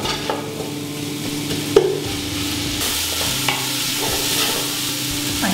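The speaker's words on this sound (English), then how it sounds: "Now the onion, it's sauteed, so we can add the ginger and the garlic." Onion, ginger and garlic sautéing in a pan make a steady, close sizzle, punctuated by a few light utensil clicks and scrapes, with no speech over it.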